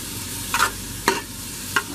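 Onions sizzle and fry in a big kettle while a spoon stirs them, giving three distinct scraping strokes over a steady low sizzle, close and fairly quiet.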